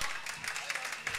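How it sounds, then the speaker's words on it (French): Audience applauding a doctor at a religious debate gathering, a short burst of steady, dense clapping filling the room at moderate volume. "On applaudit pour le docteur Nicolas Quisito."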